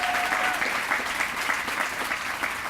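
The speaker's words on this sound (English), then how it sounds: "give him a big round of applause." Sustained audience applause at the Cesar Chavez Awards ceremony, a dense, steady wash of many hands clapping with a brief tonal whistle-like note early on.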